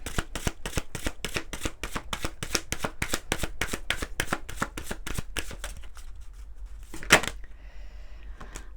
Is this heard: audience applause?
no